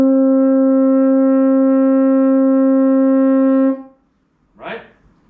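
One long, steady open G on French horn, no valves pressed, held for nearly four seconds, then silence and a brief breath or murmur afterward.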